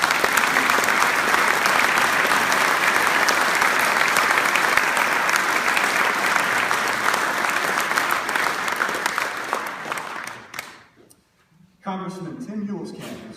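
Sustained applause from a debate audience in Hutchinson, Kansas, as a congressional candidate is welcomed, dense and steady for about ten seconds, then fading to a brief lull before a voice begins speaking.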